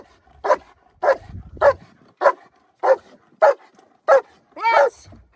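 A German Shepherd barks during protection training, eight loud, evenly spaced barks close to the microphone, the last one longer and more strained, with no talk over them.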